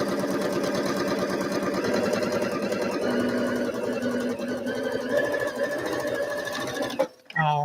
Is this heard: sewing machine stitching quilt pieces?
yes